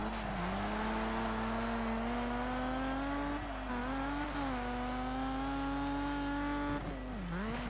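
Rally car in the Colin McRae Dirt 2 video game, a loud sustained engine whine that dips and climbs through a handbrake slide, with tire and gravel noise underneath.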